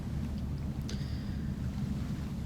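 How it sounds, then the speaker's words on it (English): A ship's engine in the Nautic XP ship simulator game idles as a steady low rumble throughout, with a brief thin tonal chirp about a third of the way in. "So the engine is started."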